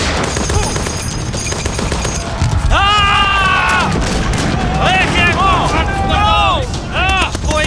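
Battle gunfire from a Hollywood war movie trailer dubbed in Hindi: dense bursts and cracks run throughout, loud and continuous, under urgent shouted voices and a thick mix of battle noise.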